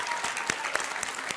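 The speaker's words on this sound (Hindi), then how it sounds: "आज की ऑडियंस के लिए एक बार ताली बज जाए भाई" Brief, fairly quiet clapping from a studio audience at a televised political debate, a handful of scattered claps over a short stretch.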